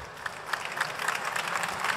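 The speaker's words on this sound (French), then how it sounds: "On peut l'applaudir." Audience applause after a presentation at a festival talk, a short burst of brisk, fairly loud clapping from a modest crowd, with no voices over it.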